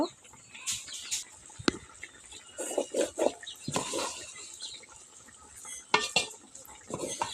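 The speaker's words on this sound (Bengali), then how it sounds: "এখন আমি লতিগুলো দিয়ে দিব।" Clattering and scraping in a cooking pan as taro stolons are added to shrimp and bean seeds being fried, with irregular clinks and stirring knocks close by.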